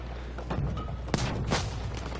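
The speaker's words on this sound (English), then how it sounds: "Explosions." Video game explosions in a platoon multiplayer match: a couple of sharp booming blasts burst out over a low, steady background rumble.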